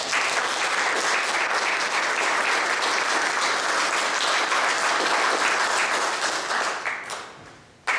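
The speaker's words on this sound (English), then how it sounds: "Let's give these guys a round of applause." Loud sustained applause from a large audience at a Boy Scout Eagle Court of Honor fills the room, then tapers off near the end.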